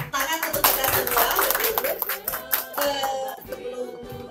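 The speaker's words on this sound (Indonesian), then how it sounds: "Tepuk tangan untuk kita semua." A crowd at an Indonesian coaching gathering claps, a brief burst of close, irregular hand claps mixed with voices talking over it.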